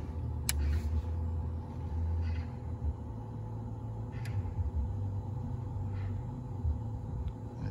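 A power inverter charging a VW e-up from another e-up gives off a constant low electrical hum and rumble, steady throughout, with a couple of faint ticks.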